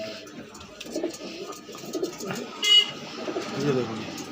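Madrasi pigeons coo softly and intermittently amid a busy pigeon-sale setting, with low murmuring coos layered under background chatter and distant traffic.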